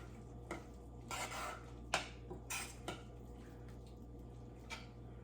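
A spoon scrapes and taps softly in a pot of hotdog chili with added sugar, a few quiet irregular clinks and rubs over low kitchen hum.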